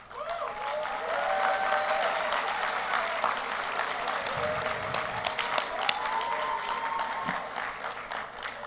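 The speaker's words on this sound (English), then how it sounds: "let's also applaud your campus liaison coordinators" Sustained applause from a large audience at a student leadership awards ceremony, a dense steady wash of clapping lasting throughout, with faint crowd murmur and a few scattered voices beneath.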